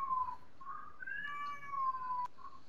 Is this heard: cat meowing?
yes